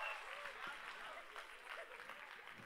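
An audience applauds after a set at a music night in Yerevan, sustained dense clapping heard faint and distant, with a voice speaking over it.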